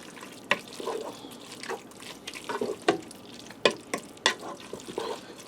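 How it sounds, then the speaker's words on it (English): Spoon stirring mayonnaise and salsa into cooked ground beef inside a Ninja Foodi pot: quiet, irregular scraping and wet squelching clicks, close by with scattered sharper taps against the pot. "I'm just going to stir in the mayonnaise and the salsa."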